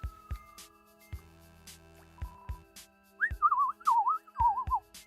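A character whistles a wavering, bouncy tune in the video game Undertale Yellow, set over game music with low thumping beats; the whistle comes in clear and fairly loud in the second half.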